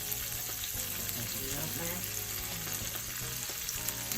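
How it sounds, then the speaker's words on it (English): Pre-chopped white and red onions frying in butter in a pan make a loud, continuous close sizzle that holds steady throughout, with a faint low hum underneath and no talking. "Pre-chopped white onions. Basically, I'm just going to let that cook down in the butter."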